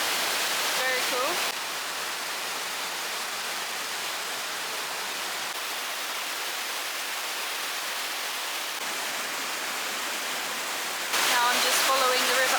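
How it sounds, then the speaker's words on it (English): A waterfall in the Brecon Beacons, South Wales, roars as a constant, broad rushing wash of water, with a voice heard faintly at the start and end. "So I'm at the second set of waterfalls behind me here"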